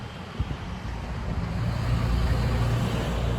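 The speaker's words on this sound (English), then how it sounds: "Oh, there's another loud truck driving by." A loud truck passes by outside, a steady low rumble that swells slightly as it goes by, with no one speaking over it.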